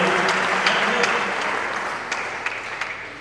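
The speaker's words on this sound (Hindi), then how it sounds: "मैं आपसे चाहूँगा एक बार भरपूर तालियां आप बजा दीजिए" Audience applause at a Hindi poetry gathering (kavi sammelan) in Najibabad, Bijnor: steady, dense clapping from a crowd that carries evenly through the whole stretch, with no voices over it.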